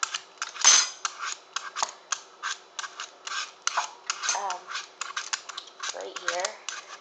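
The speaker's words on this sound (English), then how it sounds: "Just kind of peel the apple." An apple peeled with a knife for toddler snacks: a steady run of short scraping, crisp cuts at a close distance, moderately loud, while a person talks over them.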